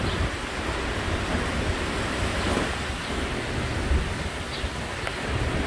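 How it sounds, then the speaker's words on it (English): Strong hurricane wind from Hurricane Ida roars steadily and loudly throughout, a dense broadband rush with gusty surges and microphone buffeting, no talking. "Hear that wind is ripping."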